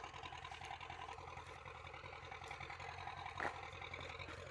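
A tractor engine running in a field of tall mustard cover crop, a steady mid-pitched drone heard from a moderate distance, low in level and continuous throughout, with no talk over it.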